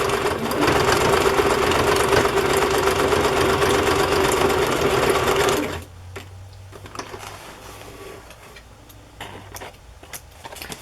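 A sewing machine runs a zigzag stitch on a handmade journal, a loud, steady mechanical whir with rapid needle chatter lasting about six seconds before stopping abruptly, leaving faint room noise and a few soft clicks.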